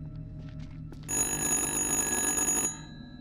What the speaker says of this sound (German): Das Telefon hatte geklingelt.